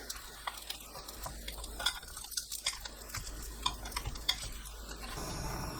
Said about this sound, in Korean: 동그랑땡을 기름 두르지 않은 팬에 한 번 더 구워주세요